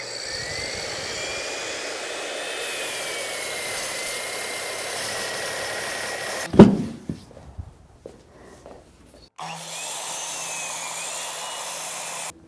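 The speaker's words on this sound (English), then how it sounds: "Next, I'm going to cross-cut the pieces using our jet chop saw." A Jet chop saw cross-cutting walnut boards for a live-edge coffee table gives a loud, steady motor whine that stops with a sharp thump midway, falls quiet for a few seconds, then starts up again.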